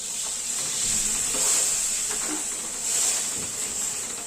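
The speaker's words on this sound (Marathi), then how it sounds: "पाणी टाकून घेते" Water hits a hot pan with a garlic-fenugreek paste and sizzles: a steady, hissing bubble at moderate volume, gently rising and falling, with no voices.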